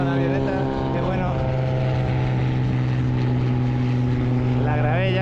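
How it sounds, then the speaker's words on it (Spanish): A small propeller plane takes off with a loud, steady droning buzz of engine tones that rise and shift in pitch, while a voice talks faintly underneath. "ahí está saliendo la avioneta"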